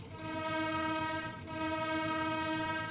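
A horn recorded from a real streetcar at the Pennsylvania Trolley Museum plays on a model streetcar and interurban train layout, giving two long, steady, loud blasts with only a brief dip between them.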